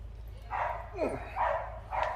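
A dog barks outdoors in several short, sharp bursts spaced about half a second apart. The barks come from a moderate distance over a low, constant background hum.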